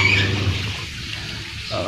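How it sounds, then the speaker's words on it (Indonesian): Running water from a tap splashes steadily over vegetables being washed, a continuous close hiss and patter with no voices. "Kemudian kita cuci dengan air mengalir seperti ini"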